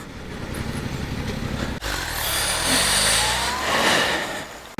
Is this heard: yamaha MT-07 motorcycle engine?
yes